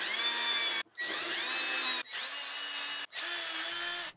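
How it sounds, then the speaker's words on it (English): A power drill bores dowel holes in wood through a dowel jig, with four sustained whining runs separated by brief pauses as the bit is reset. It is close and loud, with no talking. "I drill out the holes in both pieces"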